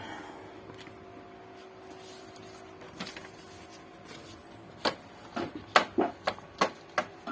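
An Epson inkjet printer feeds and prints on bond paper, starting with a low steady mechanical hum, then a quick series of about eight sharp, evenly spaced clicking and ratcheting bursts that grow louder toward the end.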